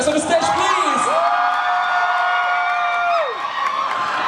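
Crowd at a launch event for the film Under Parallel Skies cheering and clapping, a dense roar of applause and whoops with a long high sustained shout riding over it, loud and continuous.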